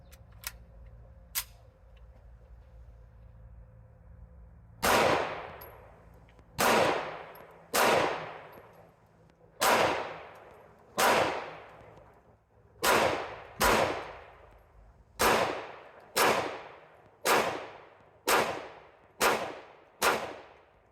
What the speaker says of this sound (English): So now I'm going to function test CCI gold dots, 124 grain, out of this Mekgar 13 round magazine.